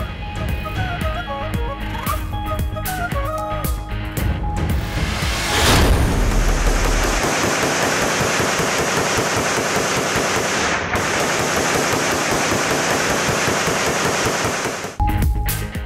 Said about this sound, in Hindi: हवाई फायरिंग से दफा 144 को छलनी कर दिया गया।